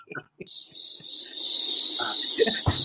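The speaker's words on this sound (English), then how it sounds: "Where's my crickets?" Crickets chirp as a steady high-pitched insect trill that swells in and holds throughout, played as a sound effect, with brief voices and thumps breaking in at the start and end.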